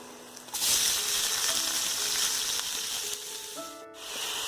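Onions frying in hot oil with whole garam masala for a Bengali prawn curry, a steady close sizzle that swells loudly after a brief quiet start and holds, with a few faint clinks near the end.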